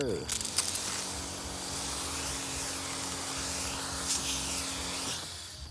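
Pesticide being sprayed onto palm trees in the rainy season, a continuous hiss that starts with a few short bursts and then runs steadily for about five seconds before cutting off, with a low motor hum beneath.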